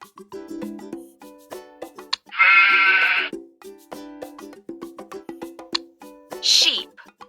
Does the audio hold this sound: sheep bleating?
yes